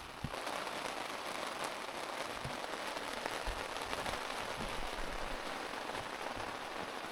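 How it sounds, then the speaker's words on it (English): Steady rain patters on a taut tent overhead, a dense constant hiss of drops with occasional louder taps, no voices. "It doesn't stop raining."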